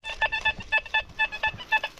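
A metal detector sweeping ground near old trees and a former manor sounds a signal tone as a series of about eight short, evenly spaced electronic beeps, moderately quiet and close, with no speech.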